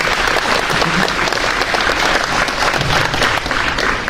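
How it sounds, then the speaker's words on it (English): A loud, close round of audience applause for Representative Lujan at a Texas Latino Conservatives event: dense clapping held steady throughout, with no talk over it. "Let's give him a round of applause."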